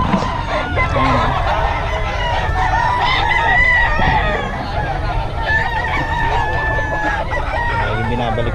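Several roosters crow loudly and close by at a gamecock market in Bocaue, with repeated cock-a-doodle-doo calls and clucking over a busy background while a person talks throughout.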